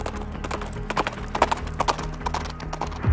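A horse ridden up a street in Bandung, its hooves clip-clopping in a steady, close rhythm over a low background rumble, with a brief whinny-like sound.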